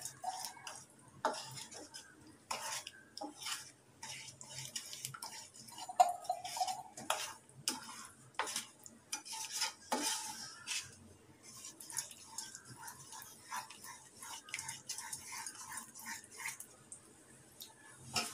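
Wheat halwa being stirred in a pan, with a spoon ticking and scraping against the metal in an irregular rhythm, fairly faint and with no voices.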